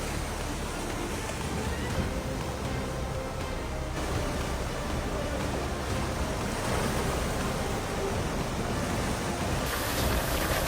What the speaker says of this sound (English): Extremely dangerous floods hit Santa Barbara, washing away everything and turning the city into a sea of water.